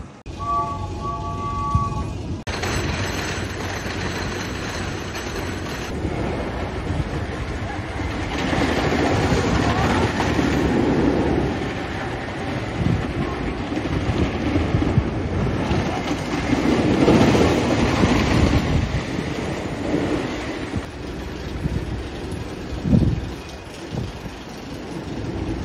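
The White Lightning wooden roller coaster at Fun Spot Orlando rumbles and clatters along its track, with a continuous rolling roar and rhythmic clacks swelling and fading as the train passes, with occasional faint voices.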